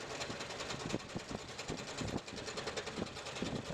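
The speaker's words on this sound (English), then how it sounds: "Now I use a little scroll saw" A small scroll saw cuts through knife handle material, giving a quiet, rapid buzzing chatter with steady fast strokes and slight variations in pitch, close by and alone.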